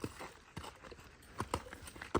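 A loose horse's hooves clip-clop in an uneven, playful rhythm, a handful of sharp, fairly close knocks scattered across a short stretch with quiet gaps between them.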